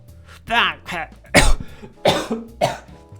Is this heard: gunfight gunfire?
no